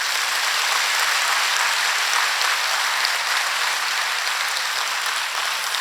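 A large crowd at a saints' religious gathering claps continuously, a dense hissing wash of applause that holds at a steady level throughout, with no voices heard.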